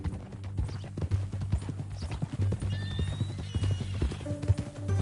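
Horse hooves clip-clopping in the video game Red Dead Redemption 2, a steady walking rhythm close by over a droning low music bed, with a brief whinny-like squeal partway through.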